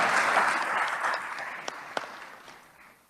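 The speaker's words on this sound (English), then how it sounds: "I'd like to give them one more round of applause" Audience applause at a Capitol event for a programming vice president and a president and CEO, a dense wash of clapping that slowly fades over three seconds, with a couple of sharper claps standing out near the end.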